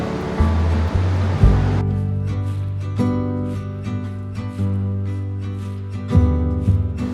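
An underground river rushes through Škocjan cave beneath a ceiling about 150 meters high, a steady roaring flow with surging swells and a booming, echoing low rumble, close and fairly loud.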